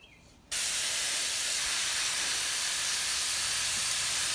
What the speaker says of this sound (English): before I start watering